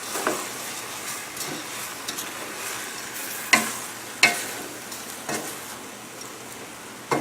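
Louisiana-style dirty rice mixture stirred in a pan, with a continuous low sizzle and repeated scraping strokes, several of them sharp, close clacks of the spoon against the pan.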